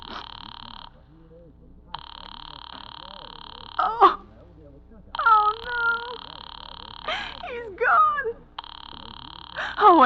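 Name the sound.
telephone dialing in old time radio drama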